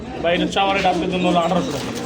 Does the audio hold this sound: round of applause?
no